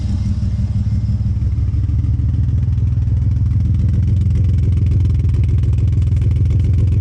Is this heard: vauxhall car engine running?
yes